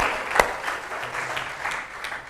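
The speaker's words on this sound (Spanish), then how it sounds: "Dele un aplauso al Señor por su maravillosa palabra." Church congregation applauding in a short burst of scattered clapping at moderate distance, with one sharp clap standing out near the start.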